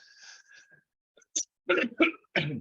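Several short, harsh coughs from a person recovering from bronchitis burst out in quick succession after a bit of quiet, close to the listener at a meeting, with no speech alongside.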